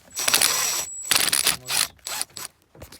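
Screwdriver loosening a hose clamp screw on a 1995 Ford Ranger 2.3 under the hood, a few short bursts of ratcheting, clicking metal turns close up, with brief pauses between.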